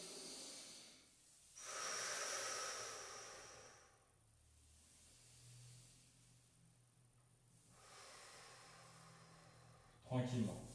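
Slow, deliberate breaths during a guided body-strengthening exercise session, soft airy inhales and exhales alternating with quiet pauses, faint and close, ending with a brief vocal sound.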